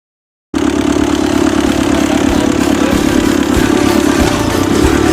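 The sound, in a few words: Ferguson TEF20 diesel tractor engine running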